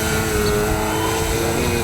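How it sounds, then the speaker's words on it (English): An XR-52 model plane hovering vertically in windy conditions gives a steady, loud motor whine that holds constant without letup. "So everyone wants to see the plane hover."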